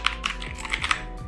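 Several crisp, closely miked keystrokes on a Tecware Phantom TKL RGB mechanical keyboard, spaced in an uneven rhythm of clicks and clacks with no voices.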